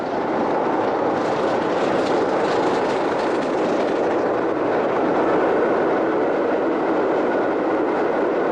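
British Railways steam locomotive climbing the Settle and Carlisle line southbound, a loud, steady roar of the moving train with a continuous rush of wheels and rail noise, no voices.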